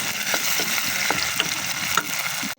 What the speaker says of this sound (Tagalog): Igisa lang natin hanggang sa madurog yung kamatis.